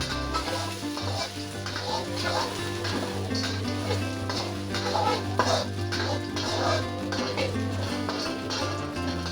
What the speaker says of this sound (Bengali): এখন আমরা স্লাইস করে রাখা পেঁয়াজ কুচিগুলো দিয়ে হালকা করে ভেজে নেব